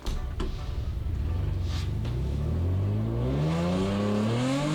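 A stock Hyundai Genesis Coupe drifts on track, its engine revving and climbing in pitch through second gear, loud and close with a rising whine and no talk.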